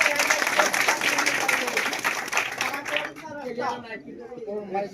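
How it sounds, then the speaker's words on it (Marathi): Villagers applaud the village sarpanch at an outdoor election gathering, a dense burst of clapping that fades after a few seconds as speech takes over. "साहेबांसाठी टाळ्या वाजवा"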